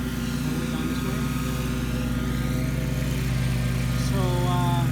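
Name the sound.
lawn mower engine running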